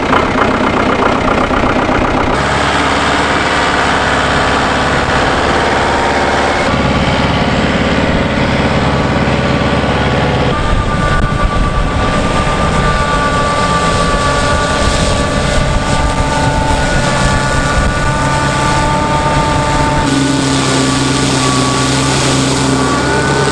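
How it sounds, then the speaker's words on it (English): A lightweight EB Alpine tractor working on peat moorland with a front flail mower and rear belt rake, its engine droning loudly and continuously with steady mechanical whirring and shifts in pitch. "It's an EB Alpine tractor, which is very light and has a really low ground pressure"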